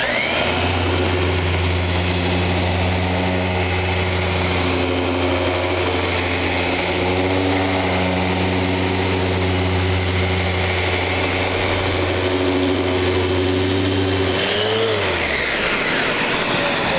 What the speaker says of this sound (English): Watch my directional sand.